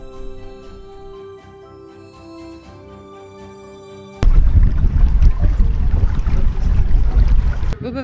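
A safari boat's motor drones loudly on crocodile-inhabited fresh water after a quieter opening of steady tonal hum, the engine noise holding strong and close until the end.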